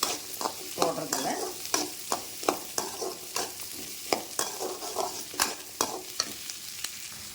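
Small onions for mutton curry sauté in a pan with a soft continuous sizzle, punctuated by regular scraping knocks of a spoon stirring, close and quiet, with no talk.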